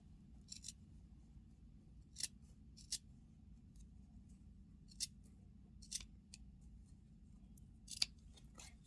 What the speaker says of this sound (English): make sure we are not cutting the stitches.